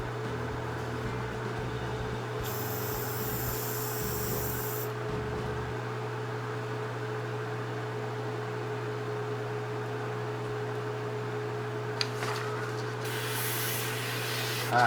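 A steady mechanical hum from an AS-186K compressor runs throughout, with bursts of hissing spray from a BD-130 airbrush coming in and out.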